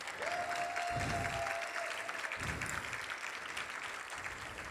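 Steady audience applause in a large hall at a general session, honouring a beloved woman, dense and continuous, with a brief whistle near the start.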